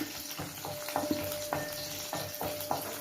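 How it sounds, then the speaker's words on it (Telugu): Urad dal and garlic sizzle in hot oil for a tempering, a steady close crackle broken by a few brief stirring scrapes, with no talk. "ఉత్తి మినపగుళ్ళును వెల్లుల్లి వేసాను"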